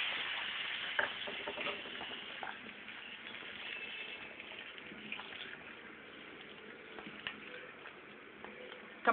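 Hot tempering poured into boiling tamarind stew for an Andhra-style veg pulusu, giving a soft, steady sizzle and crackle that stays faint and even throughout, with no talking.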